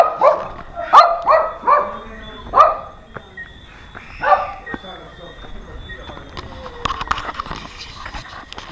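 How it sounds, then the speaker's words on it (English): Dog that has fallen into a grave, barking and yelping in a rapid series of high, strained barks, followed by a later single yelp and quieter whimpering, with people talking in the background. "apparently a dog fell in the grave and we're gonna go try and get it out"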